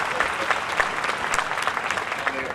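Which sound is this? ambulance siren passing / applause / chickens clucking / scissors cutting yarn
applause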